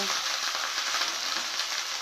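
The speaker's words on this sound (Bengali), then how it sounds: "এবার কেটে রাখা ঢ্যাঁড়সগুলো আমি দিয়ে দেবো তো এবার আমি এগুলোকে পুরো ভেজে নেব" Sliced okra frying in oil with turmeric gives a steady, even sizzle that runs without a break from start to finish, fairly loud and close, with no talking.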